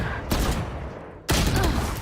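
Two dense bursts of rapid automatic gunfire from an online shooter video game, loud and close, separated by a brief lull with a low rumble underneath.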